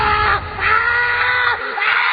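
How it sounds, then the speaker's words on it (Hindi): A loud, sustained human scream rings out as a sound effect in a Hindi horror audio drama, harsh and close, with a brief dip midway before continuing at full strength. "कुछ देर बाद लेखक की एक जोर से चीख सुनाई देती है।"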